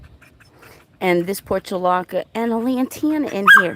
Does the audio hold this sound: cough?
no